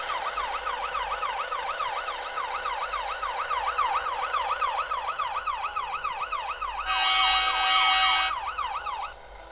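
A Minecraft vehicle add-on ambulance siren wails in a fast, repeating up-and-down sweep, loud and steady, with a brief change in tone near the end.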